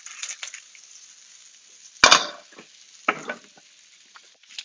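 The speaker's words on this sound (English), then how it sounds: "add the tomatillos." Tomatillos drop into melted butter in a pan and sizzle, a soft frying crackle with a sharp burst of spattering and clinks as they go in, then quieter intermittent sizzles.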